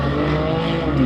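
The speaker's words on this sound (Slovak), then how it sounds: "Bavorák je trieda S7 dízlačik a trieda S5 pre Ferenca" A BMW diesel car in the S7 class at a drag race event at Slovakia Ring, its engine droning loudly and steadily up close with a strong low rumble.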